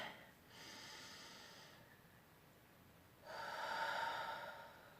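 A deep breath drawn in during a guided energy-medicine practice, two soft, slow airy inhalations close to the ear in a quiet room, the second stronger and fuller.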